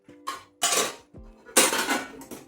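Pomfret fish is coated with spice paste in a dish, heard as a metal spoon clinking and scraping against the dish in several distinct close bursts with short gaps between.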